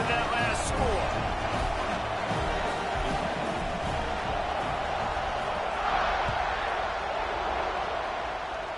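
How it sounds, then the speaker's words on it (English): A stadium crowd in a college football video game, Michigan vs Georgia, buzzes steadily in the background under a commentator's voice, with a swell of noise partway through. "this crowd is buzzing after that last score"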